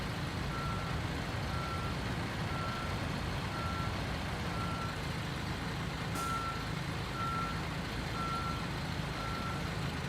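A truck in the Construction Simulator 2022 game backs up, its reversing alarm giving a steady series of evenly spaced beeps over a low engine rumble, fairly faint and alone.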